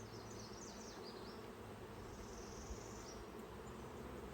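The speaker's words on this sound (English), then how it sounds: "to load the bees into the hive from a starter package" Honeybees from a starter package, harvested queen and workers, buzzing steadily and softly as they are loaded into a hive, a faint continuous hum with no talk.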